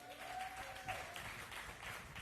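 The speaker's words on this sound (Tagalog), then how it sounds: "Palakpakan naman natin ang Lord." A church congregation applauds together during a worship service, a soft, distant wash of clapping that holds steady for about two seconds.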